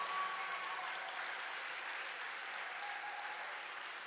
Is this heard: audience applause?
yes